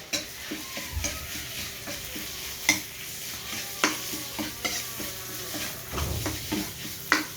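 Chopped chilies crackle and sizzle in hot oil with steady frying hiss, punctuated by scraping and clinking from a utensil stirring the pan, close up.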